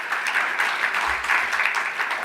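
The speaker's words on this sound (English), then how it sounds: "So I made you clap once." An audience claps steadily through an awards gala, a dense, even patter of many hands at moderate loudness with no voices over it.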